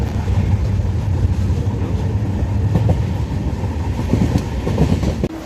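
A train at Panvel railway station gives a dense, continuous low rumble with faint clatter, close and steady throughout, ending in a brief knock.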